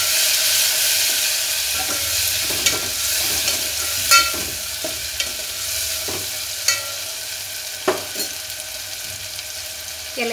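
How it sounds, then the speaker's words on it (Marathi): Coriander and tomato stirred into hot oil in a pan, a steady frying sizzle with scattered scraping clicks of the spoon at an irregular rhythm, close and moderately loud with no talking. "परत आपण एकदा हे मिश्रण हलवून घेऊ"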